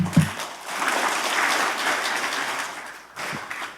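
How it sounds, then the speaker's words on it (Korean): Audience applause fills a ceremony hall, a steady wash of clapping that swells, dips briefly near the end, then resumes, with no voices over it. "많은 박수 부탁드립니다."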